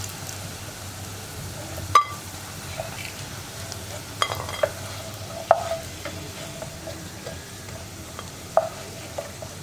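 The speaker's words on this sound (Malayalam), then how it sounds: "ഇതുപോലെ തന്നെ നമുക്ക് ബാക്കിയുള്ളതും ഫ്രൈ ചെയ്തെടുക്കാം." Tapioca (kappa) chunks frying in hot oil in a pan, a steady low bubbling sizzle with occasional sharp clinks and scrapes of a utensil against the pan, close and fairly quiet, no voices.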